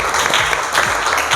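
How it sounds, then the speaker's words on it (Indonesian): Classroom students clap for a classmate announced among the top quiz scorers, a brief burst of dense, even applause, fairly loud and close. "Tepuk tangan lagi."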